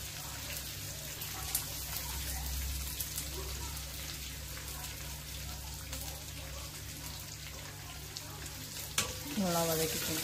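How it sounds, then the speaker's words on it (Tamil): Brinjal and onions being sautéed in a pan for thokku, a steady, moderately loud sizzling hiss throughout with a few faint utensil clicks and a brief vocal sound near the end. "நல்லா வதக்கிக்கோங்க."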